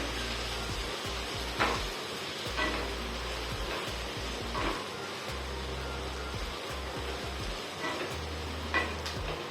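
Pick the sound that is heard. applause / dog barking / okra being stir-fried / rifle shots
okra being stir-fried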